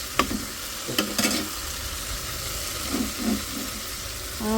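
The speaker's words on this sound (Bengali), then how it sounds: "মাংসটা রান্না করে দিই" Meat fries in a pan at home, a continuous close sizzle with a few clattering stirs and scrapes near the start and a softer clink later on.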